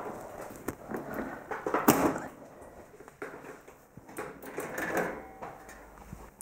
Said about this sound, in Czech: tak je možný ten vršek skříně odsunout dozadu a tím se to celý otevře